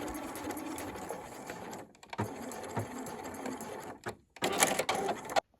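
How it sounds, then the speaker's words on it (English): A sewing machine runs a long stitching line on a lapped zip, with steady rapid mechanical chatter, two short pauses, then a louder final burst before stopping. "I'm going to just continue with that stitching line all the way to the bottom"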